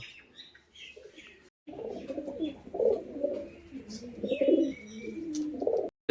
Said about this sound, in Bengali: কালশিরা নর পায়রাটা দেখুন একদম গরম রয়েছে, একদম অ্যাক্টিভ পায়রা